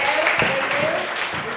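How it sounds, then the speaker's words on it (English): Indoor club-night audience applause for a speaker, soft and diffuse clapping blended with a voice talking over it. "Receive more applause, Emily."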